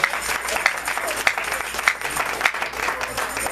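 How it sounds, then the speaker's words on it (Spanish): Steady applause from a large church congregation fills the room, with a voice faintly audible beneath the continuous clapping. "denle un fuerte aplauso al Señor."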